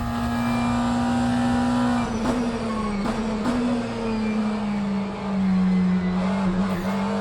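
McLaren 720S GT3 race car in rFactor 2, its engine droning steadily at a held pitch that sags slightly through a corner, with faint tyre noise beneath.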